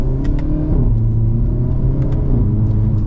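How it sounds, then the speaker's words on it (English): A 2026 Hyundai Elantra N driving with a steady cabin engine drone, a brief change in tone as it shifts gear and slight clicks over the continuous rumble. "You got a nice little pop on the gear change as well."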